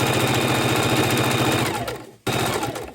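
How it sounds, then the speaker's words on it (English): A sewing machine stitches a tote bag in a steady, fast mechanical rhythm, then slows and stops briefly before starting again. It sounds close and clear, with no talking over it. "we're going to go ahead and take it the whole length, sew off the side, and come back and sew on the other side"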